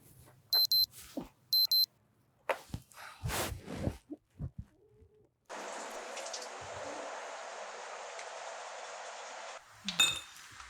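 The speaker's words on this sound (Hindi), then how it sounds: "ये अलार्म तो बंद कर दिया करो ना" An alarm clock gives two quick electronic beep bursts, followed by assorted clinks and rustles and a long steady hiss like running water.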